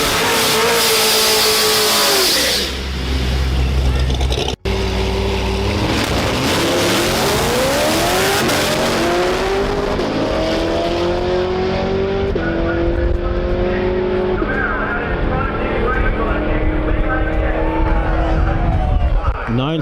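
Corvette Z06 on a drag strip blasting through a run, its engine roaring loud and close and climbing through repeated upshifts, then fading as it pulls away, with a voice talking over it.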